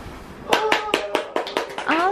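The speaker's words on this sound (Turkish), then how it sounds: "Alkış." Several people clap at a child's birthday party, sharp uneven claps in a short burst with voices and a child's speech mixed in.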